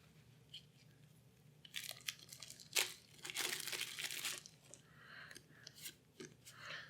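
Packs of board game campaign and advanced rule cards being unwrapped, with intermittent crinkling and tearing of wrapping that grows busier in the middle and trails into lighter rustles, close and fairly quiet.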